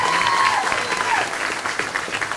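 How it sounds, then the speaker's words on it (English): A crowd gives a loud round of applause for Porter High School students at a perfect-attendance car giveaway, dense continuous clapping with a faint tone underneath. "let's give again all of our students a round of applause"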